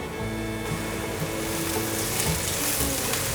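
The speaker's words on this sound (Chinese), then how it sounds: "把雪白菇炒软" White beech mushrooms stir-frying in olive oil, with a steady close sizzle and faint scraping of stirring throughout, no voices.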